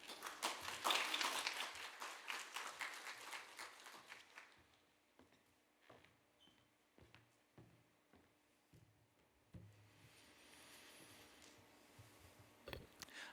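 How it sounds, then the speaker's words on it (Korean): Warm applause from a church congregation at a Saturday dawn service, welcoming a visiting pastor: a dense burst of clapping for about four seconds that thins out and fades to scattered quiet taps and rustling. "나오실 때 우리 따뜻한 박수로 환영하도록 하겠습니다"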